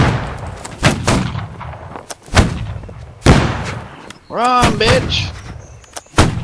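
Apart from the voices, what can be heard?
gunfire in video game Holdfast line battle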